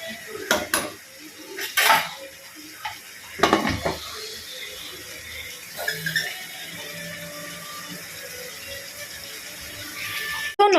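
A metal spoon stirs chicken curry, finished with a few mint leaves, in a pot on a gas stove, giving several sharp clanks and scrapes in bursts, then quieter scraping and a final knock.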